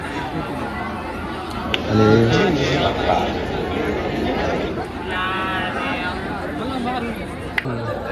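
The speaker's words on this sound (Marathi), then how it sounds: "हे लोकांची गर्दी." A crowd of people at Ujjain's Mahakal temple fills the air with steady chatter and shuffling, voices overlapping at close range, with one speaker talking over the hubbub.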